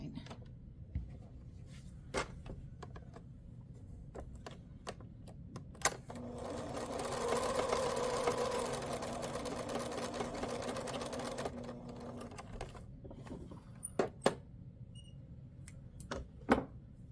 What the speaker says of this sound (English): So I'm going to draw the line, and then I'm going to stitch on that line.